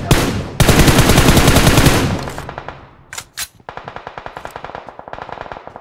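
Rapid automatic gunfire in a first-person shooter game, a long loud continuous burst followed after a pause by a couple of sharp shots and a steady run of evenly spaced single shots.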